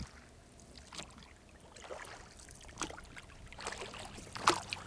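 Paddles dip and stroke through calm water in a dinghy moving along a mangrove-lined estuary, soft rhythmic splashes and trickles at close range over quiet ambience, one brighter splash near the end.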